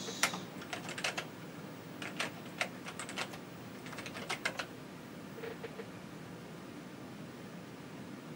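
Keys on a small kit keyboard for a PiDP-11 emulator being typed in scattered bursts of light, close clicks over a steady background hiss.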